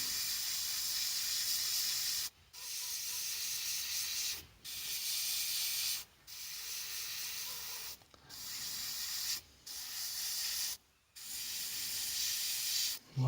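An airbrush sprays paint over a template in bursts of close, steady hiss, each lasting one to two seconds, broken by five or six short pauses as the spray stops and restarts.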